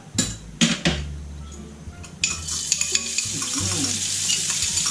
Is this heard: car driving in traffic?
no